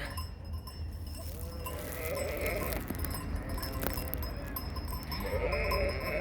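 A large flock of sheep, thousands strong, bleats continuously while crossing a road in Italy, many overlapping calls near and far over steady shuffling and background noise, with faint cowbell-like clinks.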